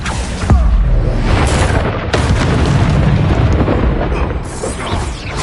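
Spell explosions from Bombarda and Confringo in the Hogwarts Legacy video game boom loudly and continuously, sharp blasts layered over rumbling roar during combat, with a few crisp pops at intervals.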